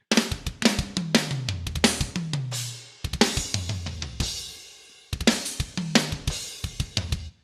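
Drum mix in Logic Pro layered with Yosh drum warehouse samples: a dense, punchy pattern of kicks, snares and hats with sliding low bass hits, pausing briefly between loud, close phrases.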